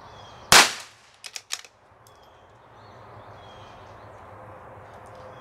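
A B22 rifle firing Eley match ammunition gives one sharp, loud, close crack, followed by a few faint quick clicks and then quiet.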